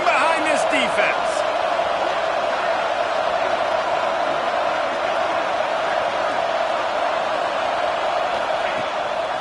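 Stadium crowd roaring at a USC vs Notre Dame college football game, a loud continuous wash of cheering that fills the scene while a commentator talks over it.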